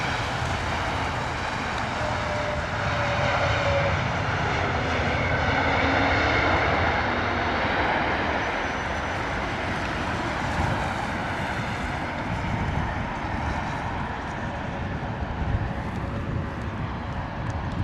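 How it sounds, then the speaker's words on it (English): A JetBlue airliner lands at London Heathrow in wet, windy weather, its engines giving a loud, steady roar that swells slightly and then holds, heard from nearby and with no talking. "JetBlue coming in."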